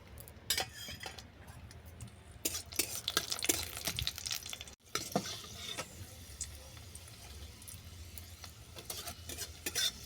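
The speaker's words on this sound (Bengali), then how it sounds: "ঘি গরম হয়ে গেছে। এরপর কাজু আর কিশমিশ আমি আলাদা আলাদা করে ভেজে নেব। প্রথমে আমি কিশমিশ দিলাম," Raisins fry in hot ghee in a kadai while being stirred, making repeated close scraping and clinking sounds over a light sizzle.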